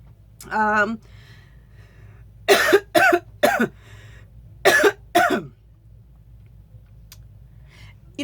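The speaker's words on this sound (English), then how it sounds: "I got so excited. I started coughing." A voice makes a short sound, then a run of harsh, close coughs in two quick bursts of three and two.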